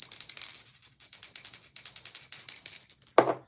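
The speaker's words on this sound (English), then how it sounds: "Ring my little bell, okay?" A small bell rings in rapid, bright repeated tinkles close by, running steadily for about three seconds before a brief soft thud ends it.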